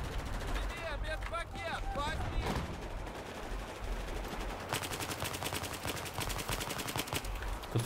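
Gunfire in Battlefield 4: rapid bursts of automatic weapon fire and booming shots mix with whistling effects, growing into a dense, loud fusillade in the second half while a voice speaks under it.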